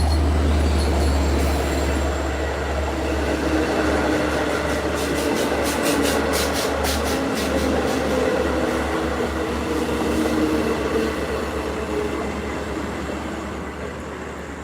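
A train rumbles past steadily for about fifteen seconds, loud and close, with a deep low drone, rail rattle and brief clattering in the middle, fading slightly toward the end.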